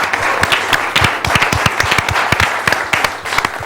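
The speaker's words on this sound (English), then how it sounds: "How about a round of applause for Glenn Ridge for being such a good sport?" A studio audience at a quiz show gives Glenn Ridge a loud, close, sustained round of applause with dense overlapping claps and no talking.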